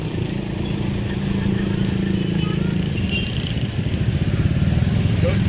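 A tricycle motorcycle engine drones and rumbles nearby, steady, then fades slightly as it passes amid outdoor street noise.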